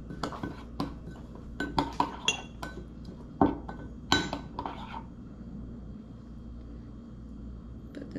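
A spoon clinks against a dish while pepper is mixed in for jeow bee, a bitter dipping sauce; a run of sharp, close metallic taps comes in quick bursts with quiet gaps between them.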